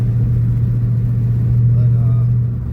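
Ford Mustang GT engine pulling steadily through gear shifts around 6,000 rpm, a loud, deep sustained drone heard close from inside the car, easing off slightly at the end as a voice speaks over it.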